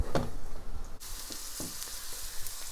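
Pork slices frying in a pan for Japanese-style udon soup, a steady close sizzle with sharp splattering pops that drop back to a softer crackle partway through.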